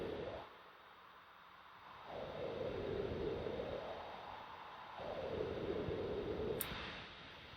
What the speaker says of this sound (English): the tornado sound does seem to have a bit of a wah thing going into it